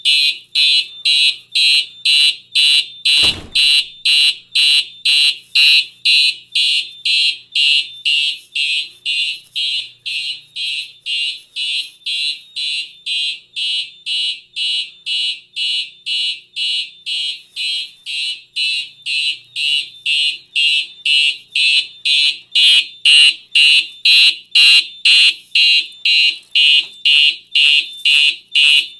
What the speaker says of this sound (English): what you're hearing is the same exact alarms and coding that are in my school